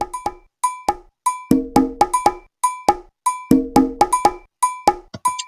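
An Afro-Latin drum kit plays a looping programmed beat in the Groove Pizza sequencer, with bright cowbell strokes over syncopated drum hits in a steady, clean, repeating pattern.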